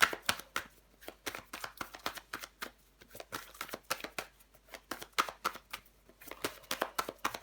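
Tarot cards handled and laid out on a table during a reading: a steady run of crisp, close slaps and flicks in irregular bursts, quiet overall with no talking.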